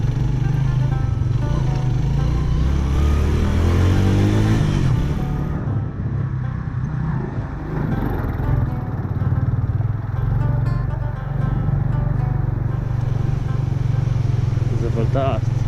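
Suzuki GS 150 motorcycle riding off-road in a mountain valley, its engine a loud continuous drone revving up and easing off over rough ground, with people talking over it.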